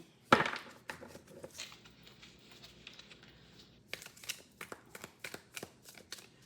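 Tarot cards being shuffled by hand: one sharp snap, then a stretch of soft riffling and a quick run of crisp flicking clicks, close and fairly quiet.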